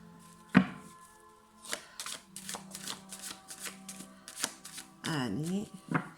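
Tarot cards being shuffled for a reading, a close series of crisp riffles and flicks with a longer riffle near the end, while a voice talks quietly underneath.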